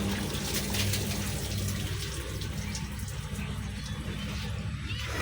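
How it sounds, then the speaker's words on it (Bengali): Water runs steadily out of an opened lower radiator line on a truck, a continuous gushing splash with a low rumble beneath it, close by and fairly loud throughout. "নিচের লাইন খুলে দিয়ে পানি বেরোয় দেখ ময়লাটা বেরোয় দেখ"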